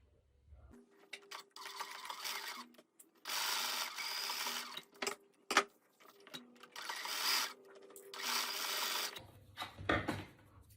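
A sewing machine stitches across the slanted bottom and top edges of board shorts fabric. It runs in several loud bursts of steady mechanical whirring, broken by short pauses and a few sharp clicks, with no talk.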